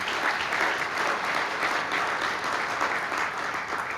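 An audience claps at a morning civic meeting in Riverside, thick continuous applause filling the room at a steady level for several seconds, with no speech over it.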